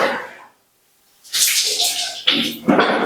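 Water gushes and splashes into a bucket for bathing, in bursts with a short silent gap partway through, loud and close.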